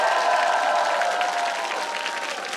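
A studio audience at a stand-up comedy show bursts into dense, even applause that holds steady for a few seconds and tapers slightly at the end.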